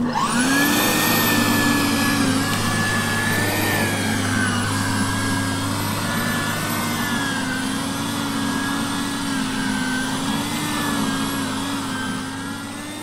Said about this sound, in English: Anyone else think that this sounds like a large vacuum?